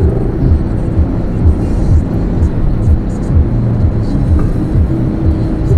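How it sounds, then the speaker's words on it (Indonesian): Engine and exhaust rumble from a Grand Max and a Jazz car on the road, a low, steady throbbing drone with gentle rhythmic pulses, heard from nearby without talk. "mobil Grand Max dengan mobil Jazz di depan itu knalpotnya hampir sama ya suaranya."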